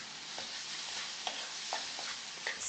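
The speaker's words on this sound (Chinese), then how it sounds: "倒入半勺盐、1勺蚝油、1勺老抽、一点鸡汁调味，" Seasoned glutinous rice being stir-fried in a wok gives a constant soft hissing sizzle broken by light scrapes and taps of a spatula, close and fairly quiet, with no voices.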